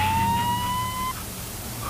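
A police car siren wails in a steady rising tone for a little over a second, then cuts off, leaving low background rumble in a dramatic scene.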